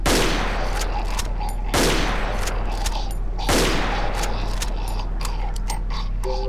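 Gunfire in the horror game Cry of Fear comes as three loud blasts spaced roughly two seconds apart, each with a long echoing tail, over a constant low hum, with no talk.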